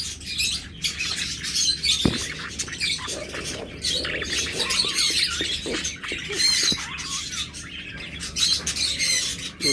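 Many lovebirds kept together for sale chirp and squawk in a dense, continuous chatter. Shrill calls overlap with no pause, fairly close, with no voices.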